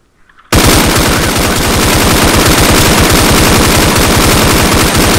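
Machine gun fire in the shooter game Breaking Point: after a brief quiet start, a loud, continuous stream of rapid shots hammers on for about five seconds with no pause.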